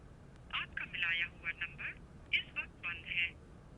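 A telephone call rings out in a quiet room, a moderately soft sequence of bright, patterned electronic tone bursts broken by short pauses.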